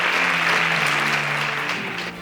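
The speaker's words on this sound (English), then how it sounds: "A round of applause for Emmanuel." Applause for a contestant eliminated on the InterswitchSPAK 4.0 quiz show, a steady wash of clapping with faint music tones underneath that fades slightly toward the end.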